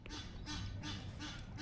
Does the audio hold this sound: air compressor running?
no